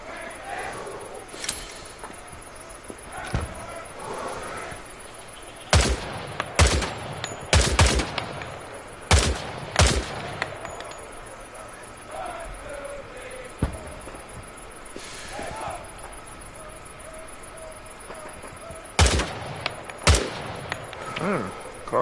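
Gunfire in Hell Let Loose Vietnam: sharp, loud shots and short bursts, some clustered in rapid runs and others spaced apart, cracking over a constant noisy battlefield background.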